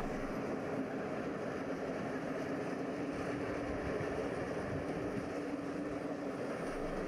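A steady, distant rumble of an M41 diesel locomotive hauling a passing passenger train in Hungary, constant and low with no voices.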